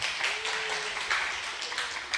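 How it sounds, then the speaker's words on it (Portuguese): A dense, steady wash of audience applause fills the room for a participant at a philosophy discussion gathering on suicide, continuous clapping at moderate level with no pauses. "Palmas para ele, rapaziada."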